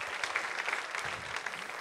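Audience applause in a church-style gathering, a short burst of dense clapping from a crowd, moderately loud and continuous with no voices on top.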